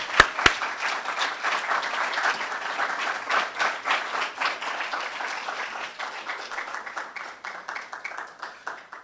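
A round of applause from the audience at a medical faculty oath-taking ceremony, opening with two sharp claps and then a sustained, moderately loud wash of many hands clapping that gradually thins.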